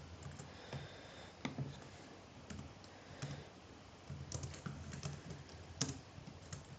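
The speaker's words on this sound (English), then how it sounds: "I'm just typing the same thing as the password." Rapid, quiet clicking of keys on a computer keyboard, steady irregular typing bursts through the whole stretch against a faint room hum.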